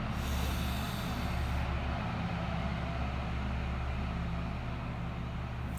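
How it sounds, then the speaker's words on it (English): A loud truck passes close by outdoors, its heavy low engine rumble and broad road noise filling the air steadily for several seconds, with the high hiss dropping away partway through as it moves off. "let this truck go by because it's pretty loud"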